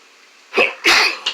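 A person sneezes and coughs in quick succession: a short burst, then a stronger sneeze and a brief final catch, close and loud against a quiet room.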